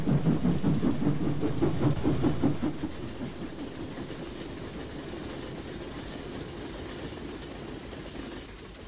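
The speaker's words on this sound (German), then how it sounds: "Hätte eigentlich gedacht, auch die Eisenbahn, wenn man da so wohnt, macht auf jeden Fall mehr Krach" A railway train in the video game Farming Simulator 19 runs with a rhythmic rolling clatter for the first few seconds, then fades to a softer, steady rumble.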